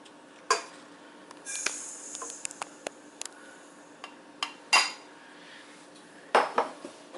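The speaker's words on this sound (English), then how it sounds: "So I'm just going to put the sugar in there." Sugar poured into a KitchenAid stand mixer bowl while making homemade cornbread, with several sharp clinks and taps of utensils against the bowl and a soft granular rustle between them, close and fairly quiet.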